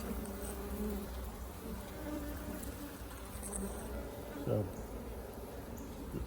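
Steady, dense buzzing of many honeybees during a hive inspection, a continuous close hum that swells briefly near the end.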